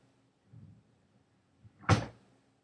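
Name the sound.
door closing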